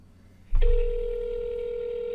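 A phone call is placed to the Moviefone line: a sharp click gives way to a loud, sustained electronic ringing tone that carries on evenly to the end, with no voices over it.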